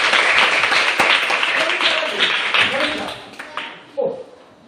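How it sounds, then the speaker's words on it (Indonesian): A classroom group claps together in sustained, fairly loud applause that thins out toward the end, with voices talking over it throughout. "Tepuk tangan buat saya dulu."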